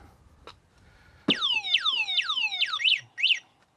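A 72V CityCoco electric scooter alarm bursts in with a series of rapid descending chirps, then warbling beeps, loud and close after near silence.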